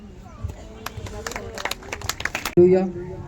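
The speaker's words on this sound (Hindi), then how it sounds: "जोरदार तालियों से प्रभु की महिमा करें" A church congregation at a prayer meeting claps in praise, with scattered, uneven hand claps of moderate loudness over a couple of seconds, under a talking voice. A loud sustained tone cuts in abruptly near the end.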